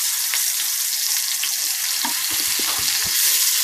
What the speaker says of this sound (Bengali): এদিকে চুলায় প্যানটা বসিয়ে পরিমাণ মতো তেল দিয়ে মাছগুলো দিয়ে দিলাম